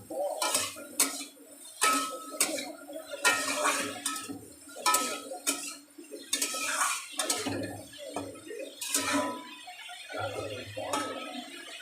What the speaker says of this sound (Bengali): এবারে এর মধ্যে দিয়ে দেব লবণ, হলুদ, ভালো করে মিশিয়ে নেব।